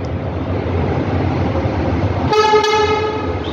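A loud bus horn blast with a steady harmonic tone rings out for about a second over constant engine rumble at the Santos bus station, then the rumble continues.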